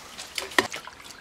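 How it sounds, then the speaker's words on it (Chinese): Pork being washed with hot water: a brief, faint splash and trickle of liquid with a few soft drips. "用点热水洗"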